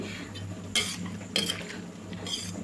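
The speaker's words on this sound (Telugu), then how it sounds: "రెండు బాగా కలుపుకోవాలండి" Cabbage and onions being stirred in a pan for cabbage poriyal, with three distinct scraping clinks of a utensil against the metal about half a second apart, over a steady low kitchen hum.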